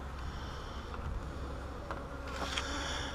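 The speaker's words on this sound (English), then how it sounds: "This is a swarm. It swarmed out of this box." A honeybee swarm that has just left its hive box, heard as a steady, dense insect hum close by with no voices.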